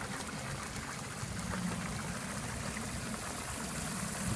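Steady water rushing through a gold sluice box loaded with Eureka Gold Sands paydirt, a continuous broadband wash of flowing water at fairly strong flow, close and even throughout with no voices.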